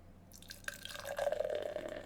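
Dark marshmallow stout from a can pours into a pint glass, a soft splash building into a steady bubbling, foamy trickle, heard close and quiet.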